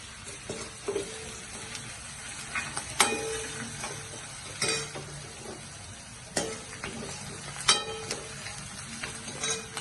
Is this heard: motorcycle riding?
no